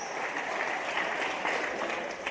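Audience applause at a talk by Ustadz Yusuf Mansyur, a steady continuous wash of clapping at moderate, slightly distant level with no voices over it.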